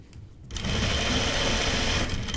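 A sewing machine stitches a Cheyenne tunic placket, starting after a brief pause and then running in one steady, loud, continuous burst close by.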